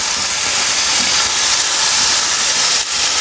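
Tomatoes sautéing in hot oil for Tamil-style rasam, a loud, close, unbroken hiss of sizzling that holds steady throughout with only a brief dip near the end.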